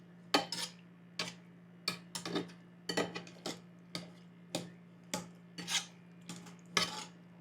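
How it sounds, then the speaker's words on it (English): A metal utensil scrapes and grinds tomatoes in a titanium-surfaced non-stick pan, making a dozen or so irregular, close scraping strokes over a steady low hum, with no talk. "I'm like really gonna kind of go in there and grind these tomatoes up, and it will still be non-stick."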